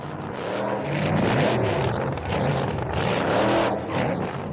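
A 1986 El Camino wheelstander pickup at New England Dragway, its engine a loud, steady roar that swells and eases in broad waves over a few seconds with no break.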